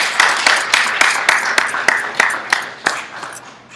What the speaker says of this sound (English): Give her a wonderful round of applause.